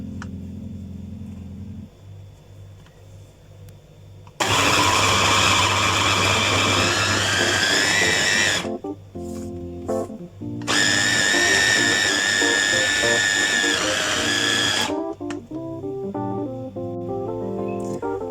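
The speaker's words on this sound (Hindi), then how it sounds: "चॉपर में इसको चला देंगे तो ये पूरा पेस्ट बन जाएगा।" An electric chopper grinding chicken with salt and spices into a paste, running in two loud whirring bursts of about four seconds each, with quieter rattling and clattering between and after them, near and without talk.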